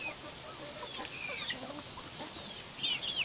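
Chickens and chicks cluck softly as they slowly peck at watermelon rinds, with faint, scattered chirps over steady farmyard hiss.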